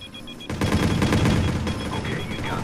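Heavy gunfire in Watch Dogs, a dense volley of shots starting abruptly and continuing loudly to the end.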